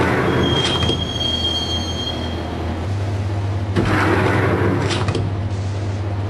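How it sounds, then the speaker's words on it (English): A subway train in Max Payne rumbles along toward Roscoe Street Station, wheels squealing in a thin high whine over a loud, continuous rail roar with a deep steady hum and brief surges of clatter. "the train doors had already shut behind me, and I was in for the ride"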